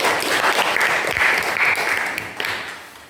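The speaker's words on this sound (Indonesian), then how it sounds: "Oke, kita beri aplaus." Students in a classroom give a round of applause, dense close clapping that holds steady for a couple of seconds and then tapers off.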